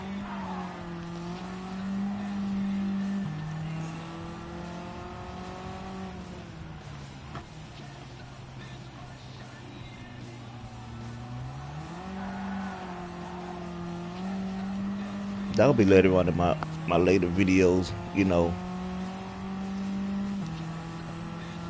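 A race car drives in Gran Turismo 7, its engine droning and shifting pitch through gear changes, with a burst of tire squeal and skidding near the end; someone talks over the engine early on.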